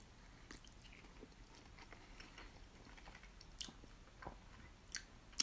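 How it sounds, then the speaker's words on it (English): Quiet close-up eating of spaghetti cacio e pepe in a cheesy pepper sauce, soft chewing and small wet bites running steadily with a few sharper smacks, no talking. "Eating spaghetti on camera is always fun."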